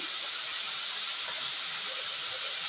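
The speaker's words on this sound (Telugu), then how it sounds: "మీడియం ఫ్లేమ్ మీద ఫ్రై చేసుకుందాం" Frying on a medium flame, with pepper, curry leaves and coriander in the pan: a loud, steady, continuous hiss that runs without a break throughout.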